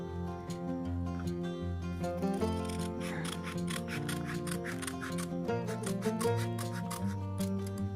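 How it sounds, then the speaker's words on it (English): Scissors snip paper while a heart-shaped pocket gift is made for Valentine's Day, with repeated close crisp cuts over steady music. "You will be cutting up to the guide."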